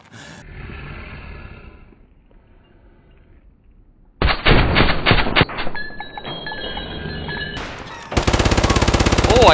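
Gunfire from the video game Escape From Tarkov: a quiet stretch, then a loud burst of rapid shots followed by another dense, sustained volley near the end, dominating the mix.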